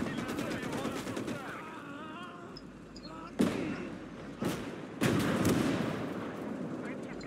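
Artillery and gunfire in the World War II game Call to Arms: Gates of Hell on the Eastern Front, with several sharp loud blasts striking among ongoing battle noise and chatter-like voices in the background.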